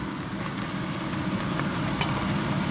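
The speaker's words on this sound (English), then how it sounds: "Give it a nice stir and cook this long enough for the onions to brown." Onions and garlic frying with bacon in a pan, a steady close sizzle running the whole time with faint scrapes of stirring now and then.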